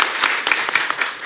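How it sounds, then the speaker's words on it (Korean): Seminar audience clapping for a presenter, a short burst of several hands with distinct claps close by, brief and fairly loud. "우선 발표 잘하셨기 때문에 박수 해주시고"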